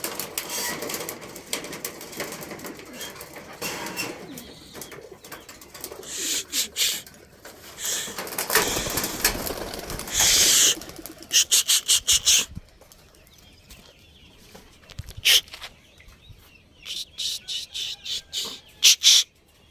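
Pakistani Teddy high-flyer pigeons being released make bursts of close wing flapping and rustling that come in uneven clusters, with a few soft coos and scraping handling sounds between them.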